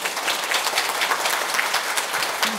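Audience applause at a June book concert with a nun speaking on the psychology and spirituality of aging, a steady wash of many hands clapping throughout, fairly close and even.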